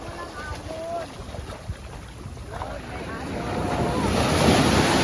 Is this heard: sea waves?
yes